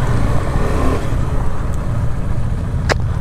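An Audi RS5 with a 4.2 V8 pulls away, a steady loud engine drone from inside the car with low rumble throughout and a brief sharp click near the end.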